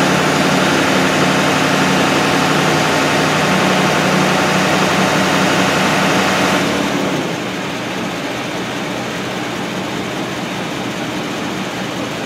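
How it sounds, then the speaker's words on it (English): A Ford 6.7 Powerstroke diesel engine with a low-boost fault runs steadily close by with a slight ticking click, loud and continuous, and drops to a quieter, smoother idle partway through. "Bit of a noisy engine, a little bit of a click to it."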